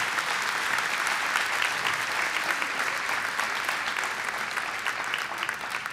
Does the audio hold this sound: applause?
yes